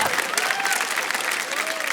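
A studio audience claps steadily through two seconds, a dense, even patter of many hands without pause.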